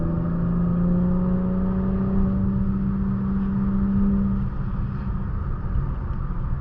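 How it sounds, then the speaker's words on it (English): Infiniti Q60 Red Sport with an axle-back exhaust, its engine droning steadily at moderate speed from inside the cabin, with a low hum that eases slightly after a few seconds. "this car sounds so good"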